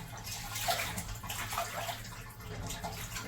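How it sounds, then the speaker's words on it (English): Laundry being scrubbed by hand in a tub of water with Dr. Bronner's soap on an Appalachian Trail thru-hike, a steady close sloshing and swishing of water and wet fabric with no talking. "We're going to scrub everything in the tub."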